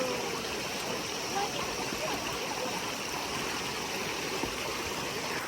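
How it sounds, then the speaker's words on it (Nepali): A mountain stream near Bhujung village in Lamjung rushes in a steady, loud, close wash of flowing water with no breaks. "हामी खोलामा आइपुग्यौँ। यो खोला तरेर जान पर्छ।"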